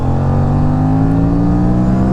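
Loud, steady roar of a KTM RC 457 motorcycle with a GPR full-system titanium exhaust, rising in pitch as it accelerates in third gear around 5000 RPM, close and continuous throughout.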